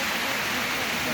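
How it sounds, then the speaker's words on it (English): Munising waterfall in Michigan, a steady broadband rush of falling water heard close and loud, continuous with no change across the short moment. "this is the base of the Munising waterfall"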